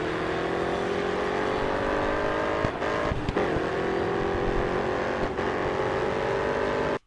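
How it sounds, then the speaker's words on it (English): Race car engines in the Grid Autosport mobile racing video game hold a steady, loud drone with slowly rising pitch as the cars accelerate, with brief shifts and a sudden cutoff at the end. "Grid Autosport is widely considered the king of racing simulators on mobile."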